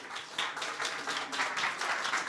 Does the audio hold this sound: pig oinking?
no